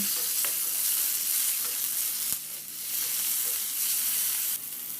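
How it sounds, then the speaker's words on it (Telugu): Finely chopped medium tomato sizzles with lentils in a frying pan, a dense, continuous crackle up close with occasional stirring scrapes and no voices. "మీడియం సైజు టమాటాని సన్నటి ముక్కలు కూడా పప్పులో వేసేసుకుని కొద్దిగా సాఫ్ట్గా మగ్గేంత వరకు వేయించుకోవాలి"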